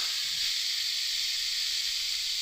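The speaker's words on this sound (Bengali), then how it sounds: "চিচিঙ্গা দিয়ে একসাথে কিন্তু ভালো করে একটু ওই আলুরই মতো কিন্তু ভালো করে একটু ভাজা ভাজা করে নেব" Snake gourd and potatoes frying together in a pan, a steady close hiss of hot oil that holds even for the whole moment.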